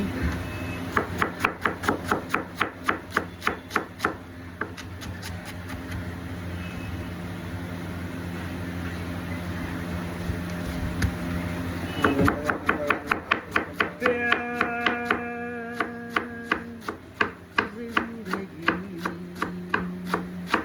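A knife chops vegetables on a board for fried rice and chowmein in fast, even, close strokes, in two long bursts separated by a short lull, with a slight background hum.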